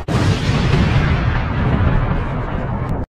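A cartoon weapon fires in a single sustained, loud explosive blast that rumbles for about three seconds and then cuts off abruptly.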